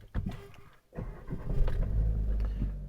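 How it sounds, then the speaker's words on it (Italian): A car engine cranks and catches after a short pause, then settles into a steady low idle, recorded close by with no talking. "vado a mettere in moto la macchina"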